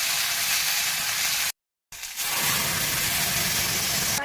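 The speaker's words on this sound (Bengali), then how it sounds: "তেল দিয়ে দেই, জিরে সোমবারে দেই, মাছগুলো একটু ভাজিয়ে নিই" Bata fish frying in hot oil with cumin gives a loud, steady sizzle. The hiss cuts out briefly for a moment, then resumes just as strong and close, with no voices.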